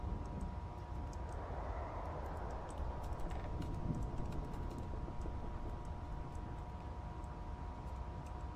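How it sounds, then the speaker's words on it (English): Typing on a computer keyboard while playing the game Amanda the Adventurer, a continuous run of quick soft key clicks close up over a low background hum, with no talk. "I'm literally typing P right now, and Q, and A, and Z, and X, and C, and V, and B, and N"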